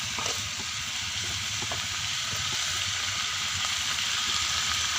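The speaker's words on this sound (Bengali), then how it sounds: "ঝাল দিয়ে নাড়াচাড়া করে নেব" Chopped raw onion and green chilli stirred and fried in a pan, a steady broad sizzle running throughout with faint scraping strokes of the stirring, close and even.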